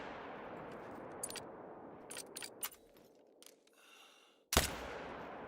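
A hunting video game rifle fires once with a loud, sharp crack near the end, following a stretch of quieter game noise and scattered clicks; no one talks.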